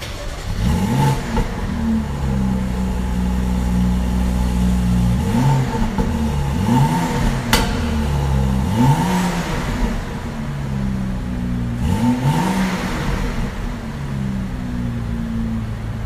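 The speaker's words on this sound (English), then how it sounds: "the X3 is quite noisy for a 6-cylinder" A BMW X3 six-cylinder engine revs up repeatedly, each burst of throttle rising in pitch and then falling back, close and loud, with a steady idle rumble between the pulls and no talking.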